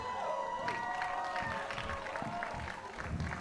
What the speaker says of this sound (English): Give it up for Audrey Johnson, crowd.